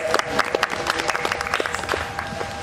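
Scattered clapping from a small audience at a Diwali gathering, with individual claps audible and irregular, moderately close and fading in and out without a steady rhythm.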